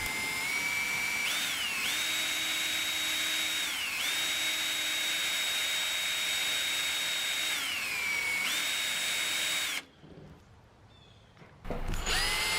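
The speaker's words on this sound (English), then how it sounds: "I need to drill a hole in this piece of galvanized steel, and I'm using a 3/16 inch standard bit on that" A drill fitted with a worn 3/16 inch standard bit grinds against galvanized steel, a loud steady high whine that dips briefly a few times, then stops, followed by a short quiet pause before the motor starts again.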